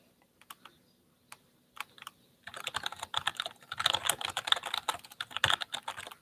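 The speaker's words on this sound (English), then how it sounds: "This is probably a very loud keyboard." A very loud computer keyboard clacks with a few scattered keystrokes at first, then a rapid, dense burst of continuous typing close by, with no talking.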